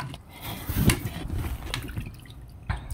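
Water pours into a cooking pot for Filipino arroz caldo, a soft splashing and trickling at close range with a few louder splashes, no voices.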